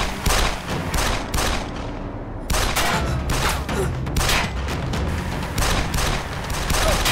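Rapid bursts of gunfire crack repeatedly and loudly, volleys overlapping with echoing booms throughout, no pause in the shooting.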